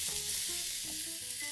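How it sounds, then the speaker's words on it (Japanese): Tomatoes stir-frying over high heat in a frying pan with a little olive oil, a steady close sizzle with light bubbling throughout. "トマトはね強火で炒めると美味しいですから、 カラッとねここで炒めてあげます"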